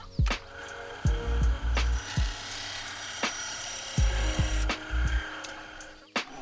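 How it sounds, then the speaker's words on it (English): A wooden wedge for an AIWB holster is cut with a hand saw, giving a string of sharp, close woody cracks and scraping strokes with short pauses between them. "Make another cut."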